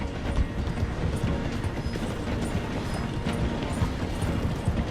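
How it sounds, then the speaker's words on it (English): A train rolls slowly through a station in the Red Dead Redemption 2 video game, giving a steady, dense rumble with faint clanks and rattles throughout and no clear voices. "The train is slowing down to go through the station."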